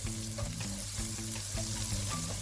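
Softened onions being stirred in a frying pan for a spicy creamy cheese cabbage dish: a steady close sizzle with repeated scraping strokes of the spoon, no talking.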